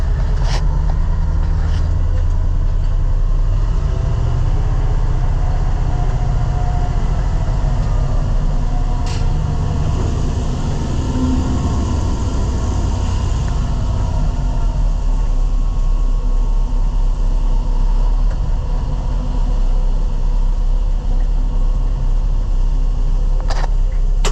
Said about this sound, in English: Tandem truck.